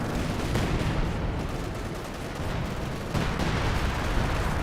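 Dense, continuous artillery barrage and gunfire in the video game Company of Heroes 2, loud overlapping blasts and crackle with no pauses and no talk.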